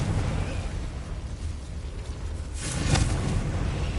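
A Confringo fire spell bursts in the Hogwarts Legacy video game, a broad explosive boom swelling near the three-second mark over a steady rumbling game backdrop.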